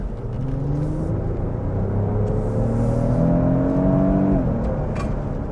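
A 2024 Lexus GX550 Premium Plus accelerates hard in sport mode, its engine rumbling low as the pitch climbs steadily, then drops sharply as a gear shifts near the end, heard from inside the cabin without speech.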